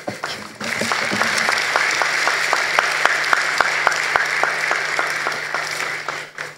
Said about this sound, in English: Another round of applause for the Secretary General of the Commonwealth.